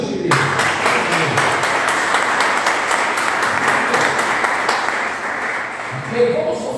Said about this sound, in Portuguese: Pode aplaudir a Jesus, querido